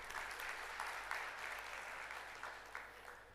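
A conference audience at a data, ERP and artificial intelligence summit applauds in a steady, dense patter, faint and distant-sounding, holding evenly before easing slightly toward the end.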